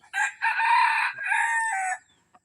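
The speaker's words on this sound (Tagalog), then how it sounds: "Ito ang ating purong labuyo. Babaeng purong labuyo" A purebred female labuyo (red junglefowl) crows nearby, one loud drawn-out call in two parts lasting about two seconds, followed by quiet.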